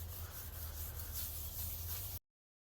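Dry sandpaper rubs steadily across the front of a bass guitar body's finish, a continuous close hissing scrape that runs for about two seconds and then stops abruptly.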